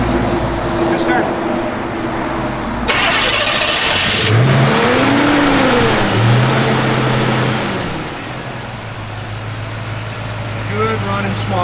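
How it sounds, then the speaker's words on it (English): A 1968 Chevrolet C10 small block V8 starts up and settles into a steady idle close by, with a few revs rising and falling, while someone talks over it. "Good running small block, guys."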